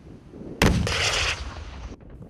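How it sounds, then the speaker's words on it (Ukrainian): An RPG-7 anti-tank grenade launcher fires once on a military training range, a single loud, close blast that sustains briefly as a roaring rush before cutting off, with no talk. "резервістів тренують стріляти з ручного протитанкового гранатомета РПГ-7"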